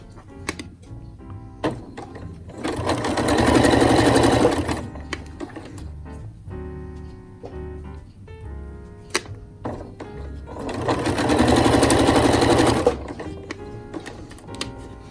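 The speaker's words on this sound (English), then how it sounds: "the top layer is going to be pushed by the machine foot forward more than the bottom one" A domestic sewing machine stitches a skirt seam in two sustained, even whirring bursts of several seconds each, close and loud, with quiet clicks and fabric handling between them and no talk.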